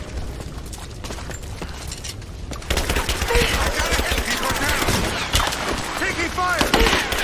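Rapid bursts of machine-gun fire and single shots rattle through a Rise of the Tomb Raider combat scene, starting moderate and then intensifying into near-continuous shooting, with voices shouting amid the noise.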